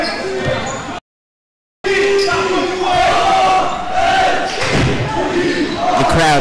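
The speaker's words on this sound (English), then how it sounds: "The crowd trying to get DRS back in this game." Crowd noise at a varsity high school basketball game: a loud, sustained cheer and roar fills the gym, with thumps and squeaks from play, interrupted briefly by a gap, while a commentator talks over it.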